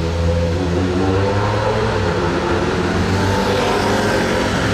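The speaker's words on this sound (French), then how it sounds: "ça accélère un petit peu dans cette entrée de tunnel" A Monte-Carlo rally car accelerates into a tunnel entrance, its engine a loud, steady roar with a low droning note held close throughout, reverberant and without speech.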